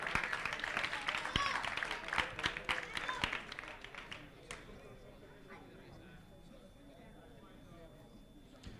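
An audience at a sprint robot racing competition gives a short burst of moderate clapping that fades after a few seconds, leaving quiet room sound and faint talk.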